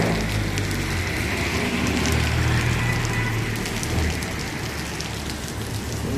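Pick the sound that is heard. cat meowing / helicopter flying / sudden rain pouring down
sudden rain pouring down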